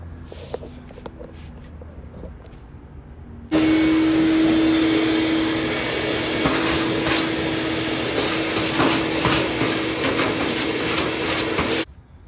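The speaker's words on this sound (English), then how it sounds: "you want to vacuum the lint off there" A vacuum cleaner switches on abruptly and runs loud and steady for several seconds, its pitch shifting slightly as the nozzle sucks lint off a Whirlpool gas dryer's rear panel, then cuts off.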